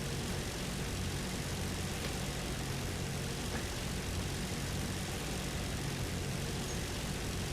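A Ju 87 G-2 dive bomber's engine in the War Thunder game drones as a dense, constant roar, loud and unchanging throughout, with no voices over it.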